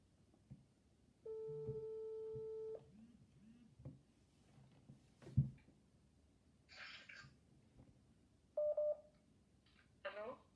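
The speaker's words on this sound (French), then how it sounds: "je suis en train d'appeler" A phone call is dialed: a steady tone sounds, followed later by short bursts of keypad dialing tones, with quiet breathing and faint background noise in between.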